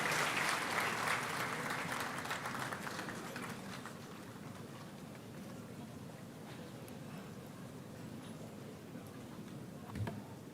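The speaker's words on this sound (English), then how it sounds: "Please applaud His Excellency" A large formal gathering applauds for the Vice President, Dr. Mahmoud Bawumia, with a loud, dense, sustained wash of clapping that swells at the start and then holds steady, with no voices over it.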